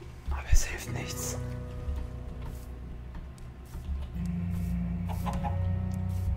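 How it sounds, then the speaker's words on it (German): Chickens cluck in a nighttime jungle in Minecraft, with several short bursts near the start and more later, under a person talking. "Hühner!"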